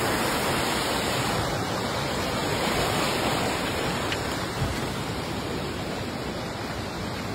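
A river's current flows strongly past a spot where ropes are strung for people to hold, a steady, close rushing hiss of water that continues without a break and no talking.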